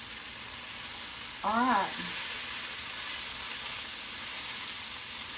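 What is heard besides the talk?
ginger being stirred and sizzling in a chicken stir fry pan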